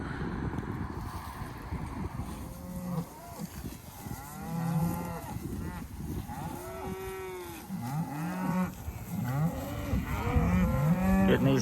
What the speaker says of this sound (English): Getting these cows trained to this polywire lifter.